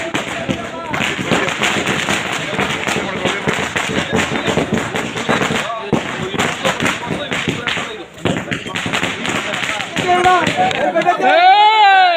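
Loud, rapid crackling bursts of firecrackers pop in dense irregular volleys at a village cooperative society election celebration, with a crowd murmuring underneath and a voice rising near the end.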